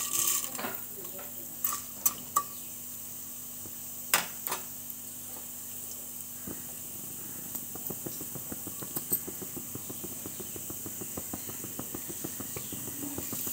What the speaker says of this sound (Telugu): మెంతులు కొంచెం వేగాలండి